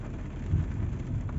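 Steady rain falls on the Stelvio Pass high in the Italian Alps, a dense, even hiss with a low rumble beneath, close and continuous with no voices.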